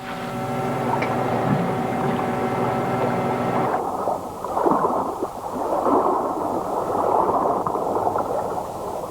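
A fishing trawler's engine drones steadily at sea with a tonal hum, then gives way to broader washing water and wave noise around the hull, continuous and fairly loud.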